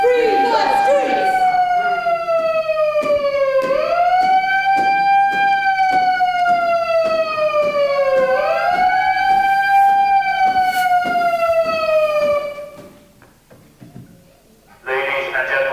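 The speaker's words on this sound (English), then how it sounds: "this is the sound of the police" A police siren wails close and loud in rising and falling sweeps with a rapid pulsing flutter, runs for about twelve seconds, drops out briefly and then starts again.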